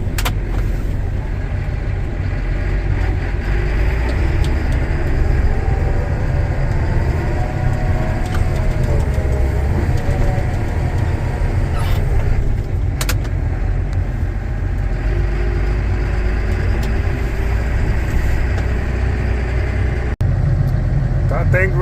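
A tractor's engine runs steadily in front of a barn during a blizzard, a constant low rumble heard from inside the cab, close and unbroken throughout.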